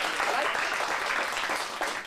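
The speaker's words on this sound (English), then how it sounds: "let me see how loud you guys can applaud for me." A small audience at an adult acting studio showcase claps loudly on request, a brief dense burst of applause lasting about two seconds.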